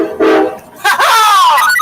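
A freight train horn sounds back at a truck on a CSX line, two loud nearby blasts in quick succession, the second longer and wavering.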